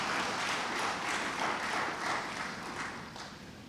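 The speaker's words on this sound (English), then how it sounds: "I want you to give yourself a round of applause for the service that you do for the people of St. Lucia" A conference audience in St. Lucia claps together in a sustained, dense wash of applause that holds steady, then eases slightly toward the end.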